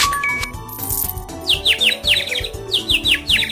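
Birds chirp at a freshly filled feeder in a children's pony-care video game, repeated bright tweets in short bursts after a chime, set over a looping cheerful game tune.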